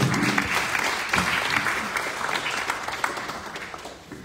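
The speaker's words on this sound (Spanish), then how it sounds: "Le damos un aplauso." Steady applause from an audience at a university architecture workshop presentation, a dense sustained patter of many hands that continues throughout and eases slightly near the end.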